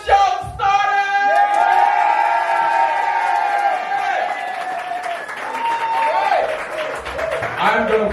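A poetry slam audience roars, with loud whoops, shouts and cheers rising in a sustained burst over scattered clapping, the crowd close and energetic throughout.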